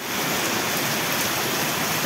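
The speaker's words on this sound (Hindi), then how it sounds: "वक्त बहुत ज्यादा बारिश पड़ रही है।" Heavy rain pouring in the Jammu Kashmir mountains, a loud, dense and steady hiss of water close by, with no voices.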